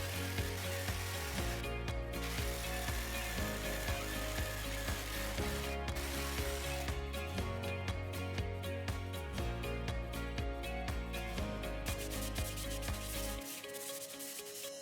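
A jigsaw cuts around a marked line to remove the center of a wooden piece, giving a loud, continuous buzzing rattle with small shifts in pitch, running alone until it eases near the end.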